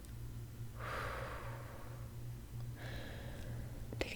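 Slow deep exhalations during a stethoscope check-up, two soft breathy rushes a couple of seconds apart, close to the microphone over a low steady hum, with no talking.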